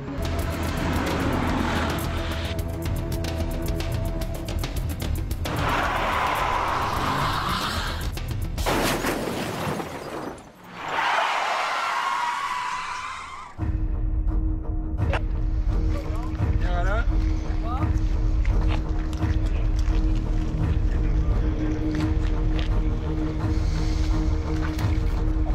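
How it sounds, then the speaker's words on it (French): A stunt car charges at 110 km/h toward two stopped cars on a film set, its broad engine and wind roar filling the scene, then dropping briefly before a loud, sustained rumble returns. "Il y a une voiture qui arrive à 110 km/h dans 2 voitures qui sont arrêtées."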